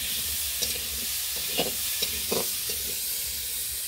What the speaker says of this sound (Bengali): হলুদের সাথে ভালো করে ভেজে নিব। কাঁচা লঙ্কা দিয়ে দিলাম